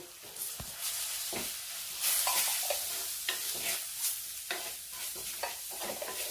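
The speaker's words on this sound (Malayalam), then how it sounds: "ഇത് ചെറുതീയിൽ വെച്ചൊന്ന് വഴറ്റിയെടുത്താൽ മതി." Turmeric, coriander and chili powder sauté in a pan over low heat, giving a soft continuous sizzle. Close spoon scrapes and stirring strokes recur throughout, with no one talking.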